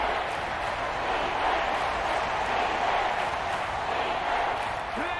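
Stadium crowd in the Madden 25 football video game, a Texans vs. Chiefs regular-season matchup, roars in a steady, dense cheer that holds loud throughout with no clear talk above it.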